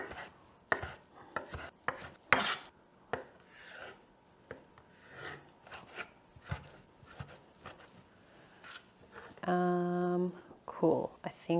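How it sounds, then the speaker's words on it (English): Chipolata sausages chopped with a knife on a board, a run of sharp irregular thuds and cuts, with people talking intermittently and a brief tonal squeal near the end. "chipolatas. We're gonna chop them."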